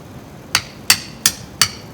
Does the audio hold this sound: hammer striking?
yes